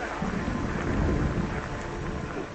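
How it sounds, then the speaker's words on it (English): Heavy rain pours steadily in a dense, even roar with low rumbling beneath, like a downpour during a storm outdoors in rocky terrain, continuous and close with no voices. "I start thinking the rain's getting harder and harder. You know, it's getting louder and louder."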